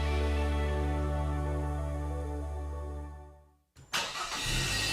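A car engine idling with a steady low hum in a fuel advertisement, fading to near silence before a sharp restart that kicks into a louder, rougher running engine.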